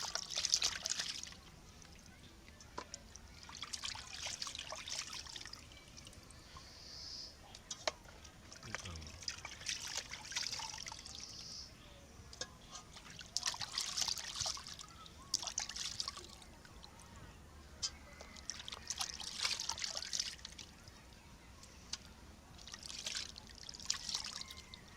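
Water trickles and splashes in repeated bursts as food is washed by hand in a basin, with short pours and sloshes separated by quieter pauses, fairly close and moderate in level.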